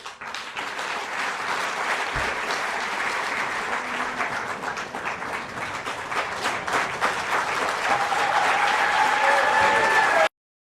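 Sustained audience applause after a public lecture by former Botswana President Masisi at UNAM, dense clapping building steadily louder before cutting off abruptly.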